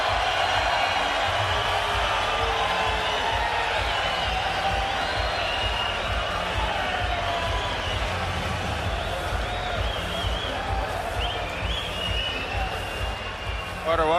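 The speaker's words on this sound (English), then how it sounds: "The crowd responds." A boxing arena crowd roars in a dense, sustained wash of cheering, with a commentator's voice talking over it throughout.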